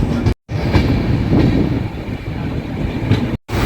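A Vande Bharat sleeper train running, heard as a loud continuous rumble of wheels on rails with faint rhythmic clatter, close and steady, interrupted by two brief cuts to silence.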